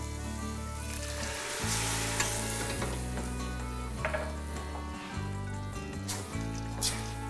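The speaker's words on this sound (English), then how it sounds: "And now I will deglaze with the white wine." Toasted rice for Sicilian arancini sizzling in a pan as white wine goes in, with continuous frying crackle under repeated scraping strokes of stirring and a steady low hum behind.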